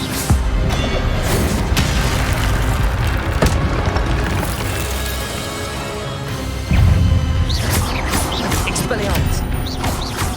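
Spell-casting effects from the Hogwarts Legacy video game, with an Incendio fire spell among them: loud, dense booming blasts and crashing impacts that follow one another over sustained rumbling game noise.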